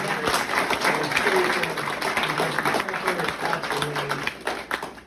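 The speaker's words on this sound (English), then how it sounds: "please give them a huge round of applause" Applause from a town hall audience in High Ridge, Missouri, a steady wash of clapping lasting several seconds with voices and crowd murmur mixed in.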